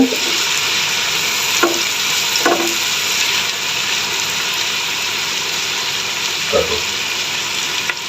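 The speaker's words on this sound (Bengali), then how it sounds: "নেড়ে দিচ্ছি পেঁয়াজ মশলা" Onions and spices being stirred and fried in a pan for noodles, a loud continuous sizzle broken by a few soft scrapes of a spoon.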